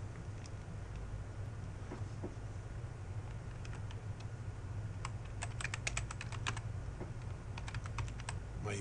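Quiet typing on a computer keyboard, at first sparse key taps, then quicker bursts of clicks in the second half, close and soft over a low background hum, with no talking.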